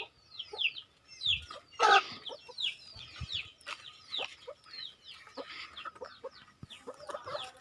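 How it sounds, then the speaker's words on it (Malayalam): Several adult chickens in a coop cluck and chatter continuously nearby, overlapping calls rising and falling with no speech. "ഇപ്പോൾ വലിയ കോഴികളൊക്കെ ഇട്ടിരിക്കുന്ന കൂട്"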